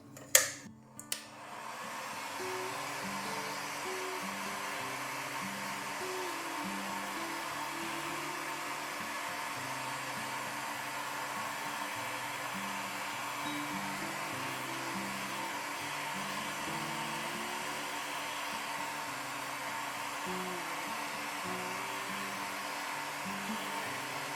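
A heat gun blows hot air over a candle vessel, a steady loud whooshing drone with a motor whine that holds evenly after a couple of brief clicks at the start.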